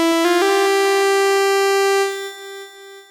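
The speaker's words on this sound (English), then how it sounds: "So if we just play a basic sawtooth wave, it sounds like this." Basic sawtooth wave from a Microbrute synthesizer routed through a delay: a bright, buzzy sustained tone with quick repeating echoes at the start, holding steady and then fading in steps toward the end, with no talking.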